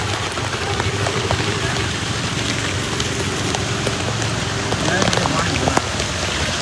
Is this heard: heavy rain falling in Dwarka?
yes